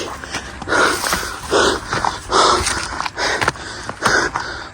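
A dog pants hard on a hill hike up Muthukora hill in Kottayam district, with loud, close, rhythmic bursts of breathing and snorting repeating throughout.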